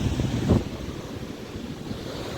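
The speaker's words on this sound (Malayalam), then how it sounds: "പുലിപ്പിഴാറിൽ നിന്ന് വെള്ളം ധാരാളം ഒഴുകുന്ന ഒരു സമയമാണ് ഇപ്പോൾ" Strong river water flows at Pulippuzha near Thottilpalam, a steady broadband rush with a brief louder surge early on, close and continuous with no talk.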